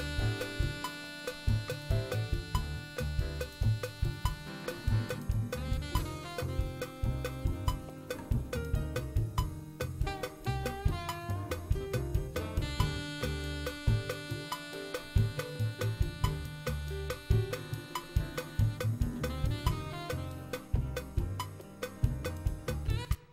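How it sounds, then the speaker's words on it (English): A digital audio recording of a saxophone part plays back, a continuous melodic line with sustained and shifting notes over a steady accompaniment, moderately quiet with no talking. "And listen to our saxophone."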